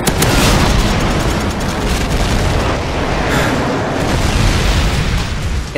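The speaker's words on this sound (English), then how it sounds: "Friendly airstrike on the way." Airstrike explosions in a Call of Duty video game roar as a dense, loud, sustained barrage of booms and rumbling blasts that runs continuously for nearly six seconds.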